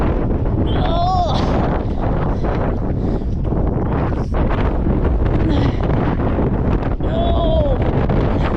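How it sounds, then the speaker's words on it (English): Strong gusts of wind batter the microphone while paddling through heavy wind on the water near Horseshoe Bend, a constant loud roar with brief vocal exclamations and whistling tones rising over it. "We get these little gusts of wind and they're just insane."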